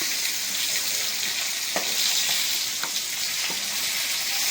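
Hilsa fish pieces crackle and sizzle as they fry in hot oil, a steady bright hiss with a few soft pops and clicks, close up and without talk.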